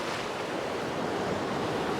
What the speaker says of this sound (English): Now we're going to get a few waves converging